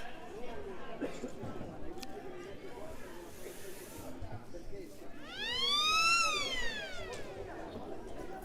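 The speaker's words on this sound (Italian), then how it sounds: "La sirena avverte che il time out sta per finire" A timeout siren sounds at an Italian Serie A2 roller hockey match in an indoor rink. A brief wavering, swooping tone rises over the background crowd and hall noise, faint and mid-distance, while a commentator talks.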